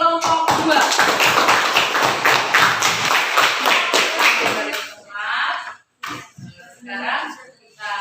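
Classroom clapping for a student group during a lesson, a dense burst of many hands lasting about five seconds, then fading into scattered voices of children and a teacher talking.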